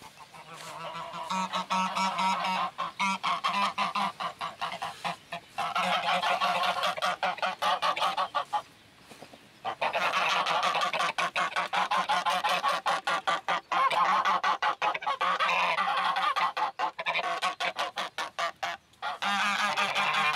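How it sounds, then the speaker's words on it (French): Farm geese and a gander honk loudly and repeatedly in a busy, overlapping chorus, with brief pauses between bursts of calls. "Maintenant, je vais aller ouvrir les oies."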